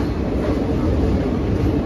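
The Visakhapatnam–Kirandul Express rolls through a tunnel at night, giving a steady, close, enclosed rumble with faint rhythmic wheel clatter throughout.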